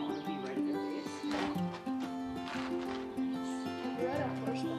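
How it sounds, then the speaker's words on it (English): Horse sounds at a ranch, with hooves clopping and a snort or whinny close by, under a steady mix of background noise and faint voices. "I think the horses are here."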